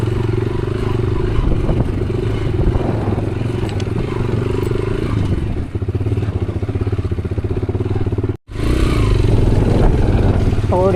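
A motorcycle labors over a rough dirt road at Bari La pass, its engine droning steadily with clattering and scraping from the rough surface, then a brief dropout before the loud engine noise resumes.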